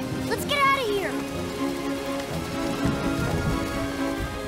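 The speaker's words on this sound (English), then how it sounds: "It's raining." Cartoon rain sound effect with a steady patter of falling rain throughout, running under a short tonal cartoon voice or effect near the start.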